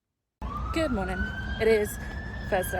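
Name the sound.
siren in the background at a park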